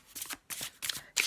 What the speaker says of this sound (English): I'm just going to have a little shuffle of the